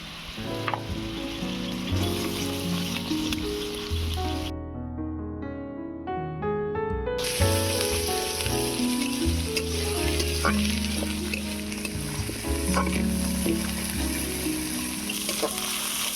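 Ginger and garlic paste sizzles and fries loudly in a pan while being stirred for a village-style duck egg curry, with a continuous close hiss and background music.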